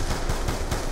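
Rapid automatic gunfire in Call of Duty Black Ops 2, a burst of four or five close, loud shots in quick regular succession with no talk.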